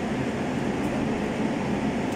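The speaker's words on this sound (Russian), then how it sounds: "А то кондей стоит, да? Дует." Steady broadband whoosh of an air conditioner blowing inside an old church building, a continuous even airflow hum with no voices, filling the whole short stretch at moderate level.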